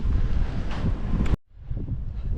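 Strong gusty wind buffets the microphone on an outdoor walk, a loud roaring rumble that drops out abruptly for a moment before resuming more softly.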